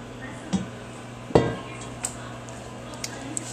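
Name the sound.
pasta being dumped into a pan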